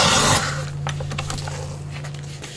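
Embossed fabric ephemera for a shabby travel journal being trimmed: a short burst of broad noise, then a series of quiet scraping snips and rasps close by, with a steady low hum underneath.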